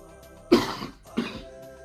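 Two harsh, close coughs a moment apart, each a short raspy burst, with a quiet background between them.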